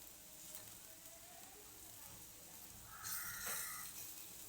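Bitter gourd (karela) frying in plenty of oil in a home kitchen, a quiet, steady sizzle with a brighter crackling burst near the end, heard close with no talk.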